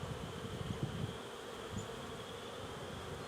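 Honeybees hum in a steady, close buzz while a beekeeper opens the hive in the first inspection of 2021, with a few soft bumps and rustles underneath and no talking.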